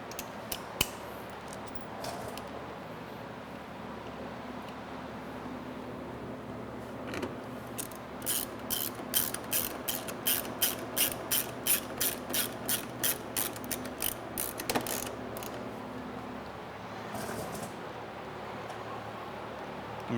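A hand ratchet tightens Torx bolts while a woofer is installed in a Porsche 991 GT3, with bursts of rapid, evenly spaced clicks close by and scattered handling noises between them.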